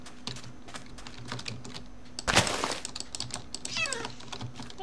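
A cat meows once, short and bright, amid a game's sounds, while computer keys click steadily throughout and a sharp burst of noise breaks in midway.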